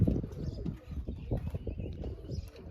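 Pigeons at a loft coo softly in low, rumbling bursts, with a few wing flaps mixed in, fairly close but faint.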